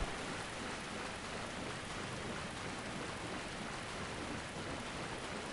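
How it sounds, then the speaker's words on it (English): Blood rain pours steadily in Bloodborne, a dense, even wash of rainfall hiss that stays constant and fairly loud throughout, with no other sounds breaking through. "And there's the blood rain again."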